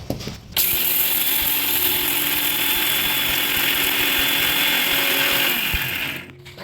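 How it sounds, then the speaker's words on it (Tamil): A kitchen mixer grinder whirs loudly as it grinds soaked tamarind, starting abruptly after a short rattle, running steadily at high pitch with a grinding, ratcheting texture, then winding down at the end. "இப்போ அதை மிக்சியில் வந்து நம்ம அரைச்சிடலாம்"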